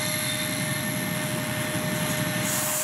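An RC F-35B model jet hovers in vertical takeoff mode and gives a steady, loud, close whine with a whooshing roar that holds unchanged throughout.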